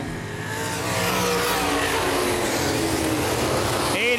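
Open wheel modified race cars on the Baer Field Speedway track, a loud continuous engine roar with revving and passing cars, steady throughout with no talk.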